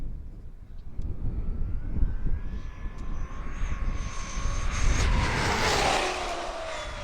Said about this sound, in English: Here we go, guys, on the throttle.